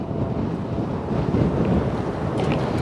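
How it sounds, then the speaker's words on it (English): Strong wind in the Palm Springs desert buffets the microphone in a steady, heavy low roar that rises and falls slightly throughout, with no voices. "It is very windy, as I've been stating throughout this whole vlog."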